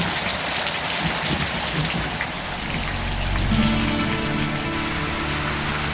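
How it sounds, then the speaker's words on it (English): Heavy rain pours down in a dense, constant hiss of drops, with water gushing and splashing nearby; the downpour stays loud throughout. "And when it rains, it pours. Bloody beautiful. Look at it coming down."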